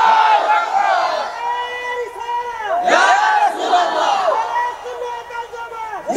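A large crowd at an outdoor religious gathering in Laksam, Comilla roars a takbir in unison: loud, reverberant massed shouting in rising waves, with a lead voice calling over the swell.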